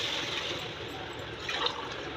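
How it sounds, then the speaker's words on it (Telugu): Water pours steadily onto rice in a pot for cooking biryani, a continuous close gushing and filling sound with no talk, rising briefly near the end. "రెండు గ్లాసుల బియ్యానికి మూడు గ్లాసులు వాటర్ పడుతుంది"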